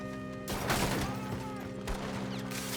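Gunfire in Red Dead Redemption 2 during a house robbery side mission, a burst of shots around the half-second mark and another near two seconds, loud and sharp over steady game ambience with talk underneath.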